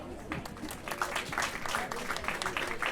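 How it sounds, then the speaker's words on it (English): An audience at a Ratha Yatra festival concert in Ottawa claps in a loose, uneven patter, with louder bursts of individual claps standing out over a thinner crowd. "huge round of applause for Mr. Anshuman Gaur"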